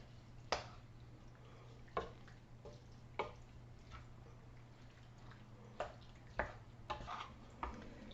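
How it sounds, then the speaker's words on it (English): Chili mixture being stirred in a pot: a spoon taps and scrapes against the pot several times at irregular intervals, faint and close, with a steady low hum underneath and no talk. "Just stir this all in here."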